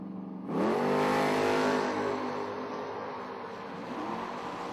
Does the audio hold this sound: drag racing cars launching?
yes